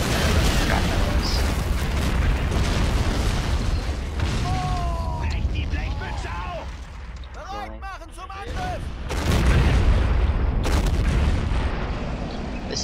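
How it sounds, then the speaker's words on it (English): Bombing explosions in the WW2 video game Men of War Assault Squad 2, continuous rumbling booms and artillery-like blasts with mechanical noise, loud and dense throughout, with a heavier burst near the end. "They are bombing the rebels."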